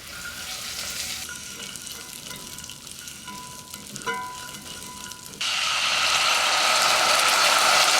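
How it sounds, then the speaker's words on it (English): Pecans toast in melted butter in a pan with a steady close sizzle and faint clicking, the frying growing louder and brighter partway through; no voices. "We're gonna add a little bit of butter to the pan and toast the pecans in it."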